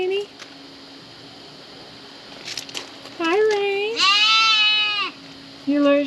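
Sheep bleat on a homestead with an air conditioner humming steadily; a few long, close, wavering bleats follow some brief rustling.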